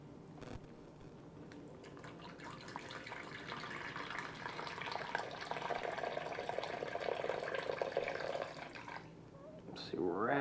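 Water poured from a gallon container into a bag of curing bacon, a continuous gurgling splash heard close, swelling toward the middle and ending with a rustle of the bag.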